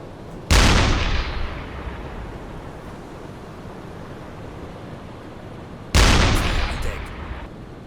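Two heavy booms from a U-boat's deck gun firing at a destroyer in a submarine game, each a loud sharp blast with a long rolling decay over a steady ocean wash.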